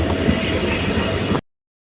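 A train departs a station in the Dooars region, its steady rumble of railcars filling the first second and a half before cutting off sharply into silence, with a brief sound returning at the very end.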